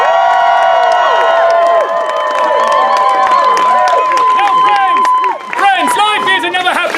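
A theater crowd at a Shakespeare performance of The Tempest cheers and applauds loudly, with whoops and whistles over dense clapping that dips briefly near the end before swelling again.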